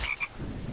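A frog in the survival game Infected gives a short, close croak with two quick throaty pulses, heard on its own.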